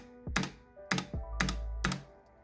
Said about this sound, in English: when I press a keycap, there is a little bit of rattling slash like a metal tinging sound